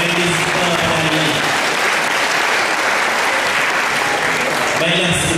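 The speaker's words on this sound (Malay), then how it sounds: "Mari kita berikan tepukan yang gemuruh kepada Medis pada hari ini." Loud, dense applause from an audience fills a hall at the final round of an open debate competition, and the clapping stays steady and unbroken with voices mixed underneath.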